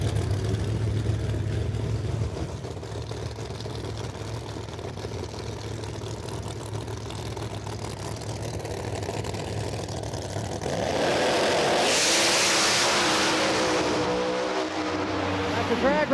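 Drag race cars launching side by side at a drag strip: a loud sustained engine roar that surges into a harsher, brighter blast near the end, heard fairly close with no talk.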